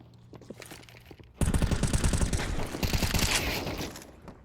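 Rapid bursts of automatic gunfire from a Counter-Strike match on the map Mirage, with a few scattered shots followed by loud, dense overlapping volleys that continue to the end.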